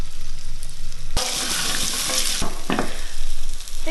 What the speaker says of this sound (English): I like to brown my potatoes